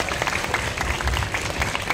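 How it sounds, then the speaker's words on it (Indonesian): An audience at an Indonesian film event claps for a screenwriter, continuous, fairly loud applause from a crowd throughout. "Tepuk tangan buat Mas Ivan Ismail, dia penulis skenario bersama kami."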